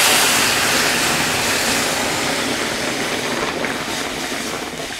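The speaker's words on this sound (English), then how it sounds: "Now I'm gonna add the same water that I boiled the tail in, because this already has some flavor." Boiling water, saved from cooking a spiny lobster tail, pours into a pot in a steady, loud, broad rushing stream that slowly eases off over a few seconds, with no talk over it.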